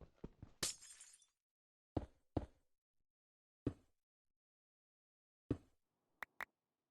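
Glass blocks breaking in the Minecraft video game: a quick burst of several crisp shattering crashes, then single breaks spaced a second or so apart, ending with two tiny clicks, loud and close against silence.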